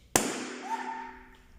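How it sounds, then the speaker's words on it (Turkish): A single sharp balloon pop bursts out, followed by a brief ringing tone that fades away. "Balonum patladı."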